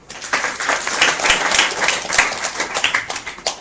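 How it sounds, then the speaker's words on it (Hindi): An audience at a Hindu satsang gathering claps together in a dense, continuous burst of applause that stays steady and close throughout, with no voices heard. "ताली बजाओगे।"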